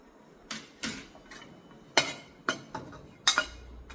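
Shallot, garlic, dried shrimp, pickled radish and tofu going into a pan of oil that is not yet hot while cooking Pad Thai: a handful of sharp, light metallic clinks and taps at irregular intervals, quiet and close, with no sizzle.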